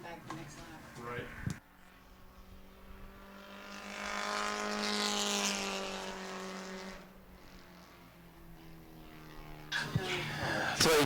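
A Bomber-class race car at New Smyrna rises to a loud, close engine whine as it laps during qualifying, then fades away, with commentators talking throughout.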